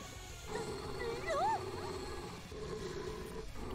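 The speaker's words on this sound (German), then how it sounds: "ihr komisches Geschütz fängt wieder an zu knurren" A strange cannon growls in the video game Azur Lane Crosswave, a low, rumbling, animal-like snarl with a brief rising whine, heard over continuous game music.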